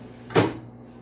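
An antique Sligh wooden dresser drawer gives one short, close knock, like a wooden drawer being set down or shut, against quiet room tone.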